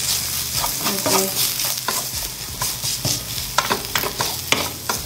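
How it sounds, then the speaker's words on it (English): Garam masala roasting in a hot pan, with a steady close sizzle and stirring scrapes and clicks running throughout; a voice speaks briefly at the start. "I'm adding some garam masala straight into the pan because I also want that to roast in there a bit with the heat"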